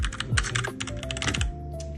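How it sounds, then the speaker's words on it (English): Fast typing on an X-Strike Me944W mechanical keyboard with red switches, a close, steady patter of keystrokes alone for two seconds. "This is my keyboard, which is the X-Strike Me944W. It's a mechanical red switch keyboard."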